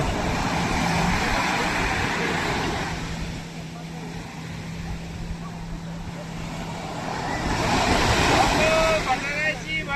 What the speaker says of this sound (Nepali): यस्तो छाल आउँछ है, हेर्नुहोस् यहीँसम्म आउँछ।